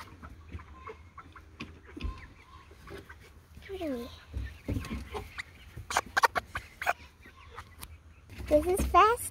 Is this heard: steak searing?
no